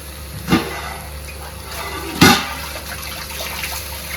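Water is poured into a crab curry cooking in a pan, two short splashes standing out against a steady kitchen background, the second louder and followed by a faint trickle.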